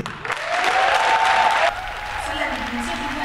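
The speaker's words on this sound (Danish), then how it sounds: "Kom nu med den klap" An audience claps enthusiastically for a third-place finish at a show, a dense burst of applause that fades slightly midway, with a presenter's voice carrying over it.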